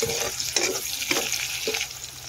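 Onions fry in a pan for a Sambalpuri-style chicken curry, with a steady hissing sizzle broken by several scraping stirs.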